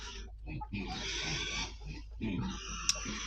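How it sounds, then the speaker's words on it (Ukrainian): Pigs squeal and grunt loudly nearby in drawn-out bursts, with brief pauses between cries. "свині, що ви там кричіть, не кричіть"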